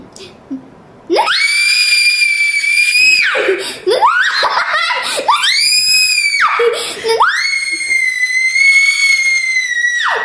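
A person screams into a voice-powered scream game, holding three long, loud, high-pitched screams separated by brief breaks.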